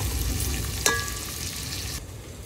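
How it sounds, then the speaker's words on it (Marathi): Sliced onions fry in a pan with a steady close sizzle, one sharp utensil clink near the start, and the frying quietening slightly toward the end. "आता ऑनियन चांगले गोल्डन कलर होणार तर आपण ह्याला फ्राय करून घेऊया"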